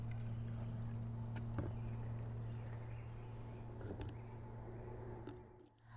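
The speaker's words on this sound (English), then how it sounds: "you'll fill your blender about halfway with the warm water" Warm water pours steadily into a blender for papermaking, a continuous splashing wash with a low mechanical hum underneath and a few light knocks.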